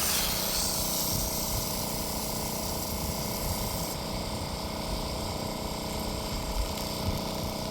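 Water sprays from a hose under strong pump pressure from an off-grid tank system, a steady loud hiss and rush of spray that continues throughout with no speech.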